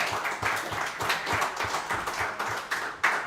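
An audience claps for a lacrosse player headed to Richmond, the steady, even applause of a moderate crowd filling the whole moment without any talk.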